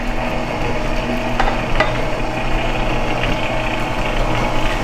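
A stand or hand mixer runs on low speed, blending banana nut bread batter in a bowl with a steady, continuous whir and churning hum that stays even throughout, with no talking.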